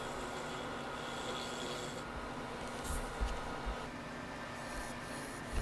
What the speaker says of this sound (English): Taking the skew chisel and just squaring things up.